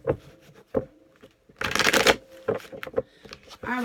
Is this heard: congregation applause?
no